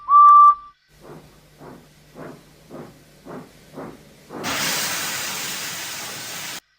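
A steam locomotive gives a short high whistle, then chuffs in an even rhythm of about six beats, followed by a long loud hiss of venting steam until the end.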